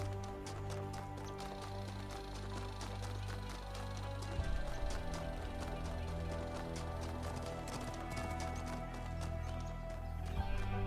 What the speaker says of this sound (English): That definitely sounded like a horse.